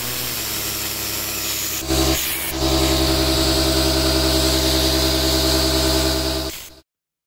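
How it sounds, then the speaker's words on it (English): Compressed air from an air compressor nozzle spins the idle air control valve of a 1999–2005 Toyota RAV4 1.8L 1ZZ-FE very fast. A loud, steady hissing whir with a droning buzz runs continuously, briefly changes pitch partway through, then cuts off. "use an air compressor nozzle inserted into either side to force the valve to spin very fast"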